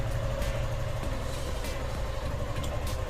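A Suzuki Gixxer SF 155 motorcycle engine idles steadily just after starting, a continuous low rumble with a constant hum, close and fairly loud, with no voices.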